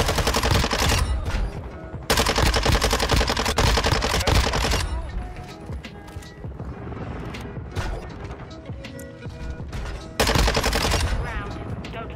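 SMG gunfire in Call of Duty MW2: loud bursts of rapid automatic fire with mechanical clatter, broken by short gaps, over game sound.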